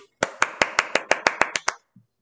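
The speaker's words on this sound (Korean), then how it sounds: "박수." In a classroom, about ten sharp, evenly spaced hand claps ring out close and loud in a quick steady rhythm, followed by a soft faint thump.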